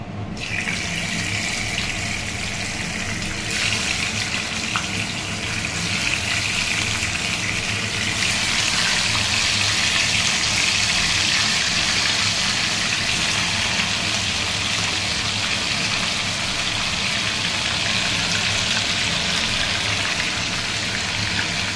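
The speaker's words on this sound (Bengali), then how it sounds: "তেলটা গরম হয়ে গেছে, এবার আমরা ধীরে ধীরে মাছগুলোকে ছেড়ে দেবো।" Pomfret pieces hiss and sizzle as they go into hot mustard oil, a steady, dense frying noise that holds loud and unbroken throughout without any talking.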